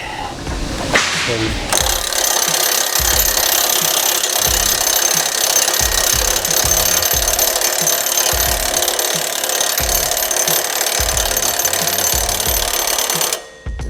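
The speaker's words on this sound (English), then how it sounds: "So I got the socket on one end, get my wrench here on the other end" A socket and wrench tighten a hitch bolt while a KAGE Under-Hitch 8000 Series is installed on a John Deere 4066R compact tractor, with repeated ratcheting strokes in a continuous loud rasping rhythm that runs for most of the stretch.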